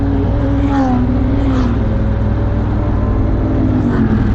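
Motorcycles pass on the road up to Jebel Jais, their engine tones rising and falling under a loud, constant engine and wind roar from the rider's own bike.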